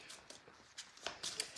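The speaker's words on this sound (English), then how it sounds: "I feel like I need to shuffle a little bit longer for the first one" Tarot cards being shuffled by hand, a string of soft, quick riffling and sliding bursts close by, irregular and fairly quiet, with no talking over them.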